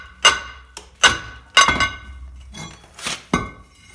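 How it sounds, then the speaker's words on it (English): A hammer strikes the front brake rotor of a Dodge Nitro to knock it loose: five or six sharp metallic clanks with ringing decay at irregular intervals, close and loud, no talking. "Take and put pressure on this side while hitting it so the rotor comes off evenly."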